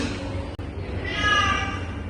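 A single cat meow, drawn out and mid-pitched, rises briefly over a steady background hum in a classroom.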